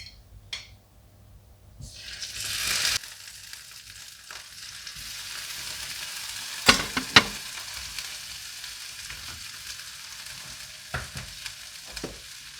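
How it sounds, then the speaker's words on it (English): A salmon fillet fries in a pan with a moderate, even sizzle after a brief louder hiss at the start, broken by a few sharp clinks and taps nearby. "The first thing we have to do is to fry up the fish."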